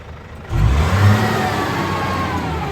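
A dual-BBT semi-wagon's engine revs up sharply after a brief quiet moment, then holds a loud, steady roar close by, with no talk over it.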